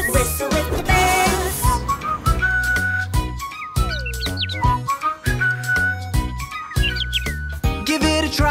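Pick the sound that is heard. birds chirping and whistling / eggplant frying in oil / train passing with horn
birds chirping and whistling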